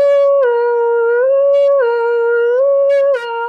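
A human voice imitates a siren during a children's music class, a sustained clear tone rising and falling in smooth wavering sweeps, loud and close, with no other sound beneath it.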